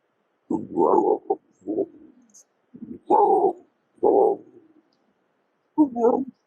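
A human voice imitates a camel belching after a meal: a series of deep, gurgling, throaty bursts separated by short silences, close and loud.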